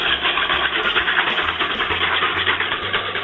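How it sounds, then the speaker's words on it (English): A whisk scrapes briskly around a bowl to break up sugar for eggnog, making a loud, continuous gritty rubbing with a fast, steady rhythm. "we're going to mix that with our whisk. Get all that sugar broken up."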